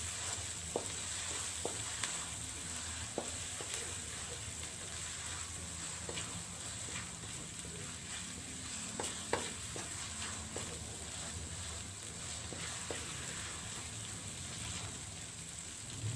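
Ground chili and shallots frying for beef rendang, a soft continuous sizzle with occasional stirring clicks and scrapes in the pan, fairly quiet and without talk.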